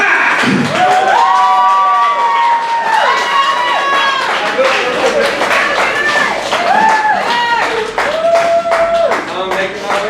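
Audience applause and cheering at a poetry slam in Dayton, Ohio, as a crowd claps and whoops after a poet's scores are read; loud voices and shouting ride over the clapping, with sung or drawn-out vocal tones throughout.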